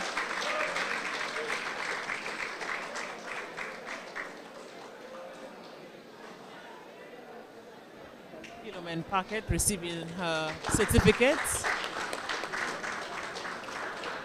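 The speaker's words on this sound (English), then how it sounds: "A round of applause" An outdoor market-day audience breaks into applause for a farmer receiving an award, rising after a stretch of announcer talk into a burst of clapping and cheering, with the announcer's voice heard first.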